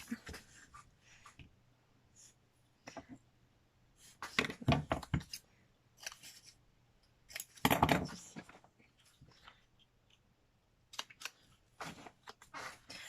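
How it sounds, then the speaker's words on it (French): Scissors cutting a scrap of corrugated paper cardboard: a few close, crunchy snips in short clusters separated by quiet gaps, faint overall, with no talking. "Je prends cette chute, je la coupe et voilà."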